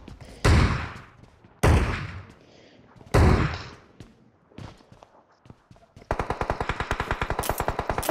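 Three heavy, booming shotgun blasts ring out in a video game, spaced about a second and a half apart, followed by quieter clatter and then a rapid, steady burst of automatic gunfire.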